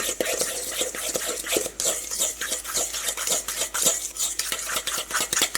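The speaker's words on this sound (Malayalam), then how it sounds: "ഇതെല്ലാം കൂടിയിട്ട് നമുക്ക് ഫസ്റ്റ് നന്നായിട്ടൊന്ന് മിക്സ് ചെയ്യാം" A spoon stirs grated coconut, egg and sugar together in a bowl, scraping and clinking steadily against the sides in a quick, continuous rhythm, close and fairly loud with no talking.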